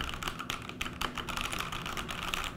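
A mechanical keyboard with backlit keys clatters steadily as someone types quickly, a close and continuous run of crisp key clicks with no voices.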